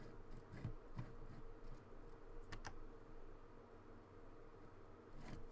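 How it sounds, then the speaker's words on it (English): Keyboard typing during a Star Trek Starfleet Command game session, a few scattered clicks over a steady low background hum, quiet and close, no voices. "I should just be typing here too."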